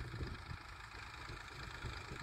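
A large Massey tractor engine idles steadily at a village farm during sowing work, a low, even diesel rumble held at moderate distance throughout, with no talking over it.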